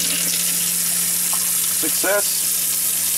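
Water runs from a newly fitted bathroom faucet in a travel trailer, a steady close hiss throughout, with a brief spoken word partway through.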